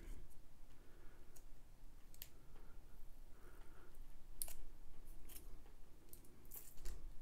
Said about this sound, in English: Just have to peel off this